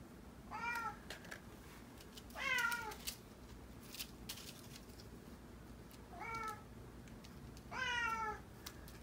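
A cat meows four times indoors, each call drawn out and rising then falling, spaced a couple of seconds apart over faint tapping and a low room hum.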